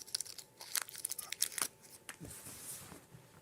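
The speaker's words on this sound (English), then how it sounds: "Let me unwrap it." A Tootsie Roll midgee wrapper being unwrapped, giving quiet crinkling and small tearing rustles in a brief close-up flurry that fades out.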